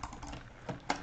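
Rapid mouse clicks fire a weapon in the video game Energy Assault, a busy run of close, crisp clicks with heavier, louder taps near the end, no voices.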